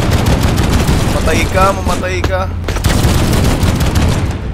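Video game gunfire rings out in dense, rapid bursts for the whole stretch, loud and close, with a player talking over it.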